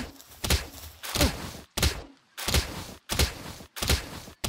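A pickaxe in the video game Palworld strikes about six times in a steady rhythm. Each blow is a sharp, heavy thunk with a short ringing tail, separated by brief near-silent gaps.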